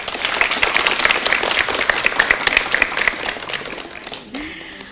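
Studio audience at a TVRI Central Java language program breaks into applause, loud rapid clapping from many hands that sustains for about four seconds before fading to room tone.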